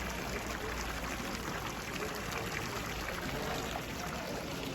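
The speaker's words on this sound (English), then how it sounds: "in the middle here you've got a fountain" Water splashes and pours continuously in a town fountain in Valencia, a steady, fairly faint broadband rush with no pauses.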